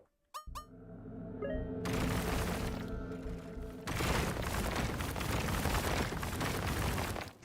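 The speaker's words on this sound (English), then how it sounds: "it's going to play like rocks cracking" A video game effect of rocks cracking: a few sharp squeaky pops, then a loud, sustained dense crackle and rumble that intensifies partway through and continues to the end, with no talking.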